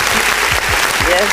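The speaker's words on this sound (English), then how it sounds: "Let's give her a round of applause." Studio audience claps for a guest on a live review show, a brief dense patter of applause layered over ongoing talk and low thumps.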